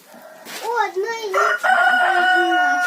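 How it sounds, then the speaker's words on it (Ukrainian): Rooster crowing and hens clucking close by inside a henhouse on a Ukrainian farm, the loud harmonic crow rising and warbling for a couple of seconds with further calls after it, no talk over it. "А ну дивись, тут сидить курочка"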